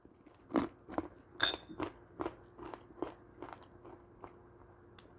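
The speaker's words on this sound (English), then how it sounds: "Crunchy, peanutty, sweet and salty." Loud, close crunching of peanut brittle, about a dozen sharp bites and chews in an uneven rhythm, with no talking.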